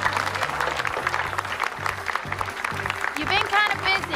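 A high school crowd applauding a prom queen in a movie, a burst of steady clapping under a voice talking over it.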